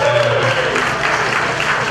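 Applause from a club audience for a touring Nashville musician at a live show, a steady dense wash of clapping lasting the whole moment, with a low hum of music or room noise beneath.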